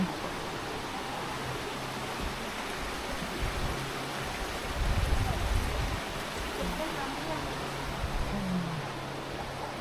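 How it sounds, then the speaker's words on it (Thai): A stream flows just outside a homestay at Mae Kampong, Chiang Mai, giving a continuous broadband rush of running water with a brief swell midway. "ข้างนอกเป็นลำธาร"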